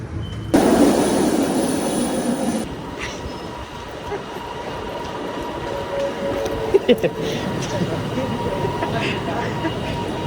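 A metro train in Malaysia rumbles and hums steadily, with a loud surge of rolling noise at first, then a continuous rail drone, faint voices mixed in.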